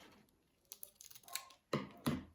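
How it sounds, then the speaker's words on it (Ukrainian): Quiet, crisp snips of scissors cutting open a small plastic packet of rhinestones, a few short cuts with small rustles between them, close up in a quiet room. "Розрізаю один пакетик"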